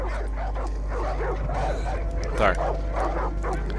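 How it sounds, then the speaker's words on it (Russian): Dogs yipping, whimpering and barking as they fight in the video game Far Cry 5, a busy tangle of canine sounds under a voice speaking briefly. "Собаки с друг другом там воюют, что-то убивают друг друга."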